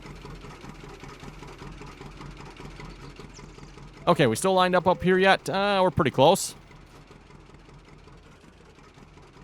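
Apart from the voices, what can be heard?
tractor engine in Farming Simulator 19 video game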